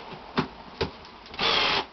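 A Milwaukee M12 drill driver set to clutch setting 14 drives a screw, with short motor bursts followed by a longer sustained whir of the screw going in, close and fairly loud.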